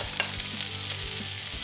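Carrots and vegetables tossed in hot oil over high flame with cooked chicken, a loud continuous sizzle with scraping stirs throughout.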